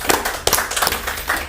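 A few quick hand claps during a police podcast, irregular sharp slaps close by over a second and a half.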